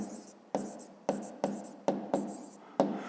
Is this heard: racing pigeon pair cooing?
no